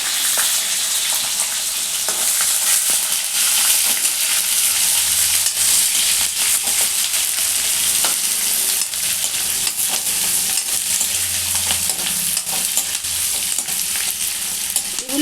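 Chopped onion and four or five green chillies frying in oil for popu annam, a continuous loud sizzle with scraping stirs of a spatula repeating throughout, close up and with no talking.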